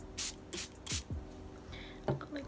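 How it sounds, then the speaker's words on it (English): Short bursts of water from a spray bottle onto a new bar of brow soap, three or four quick hissing puffs close by, with light handling clicks between them and no talk. "I'm just gonna spray it with some water"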